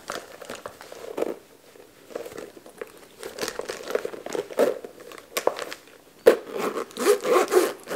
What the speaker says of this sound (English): The zipper was like a little difficult for a second.